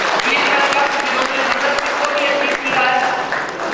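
Steady applause from a seminar audience fills the space, loud and continuous, with a speaker's voice running over it through most of the stretch.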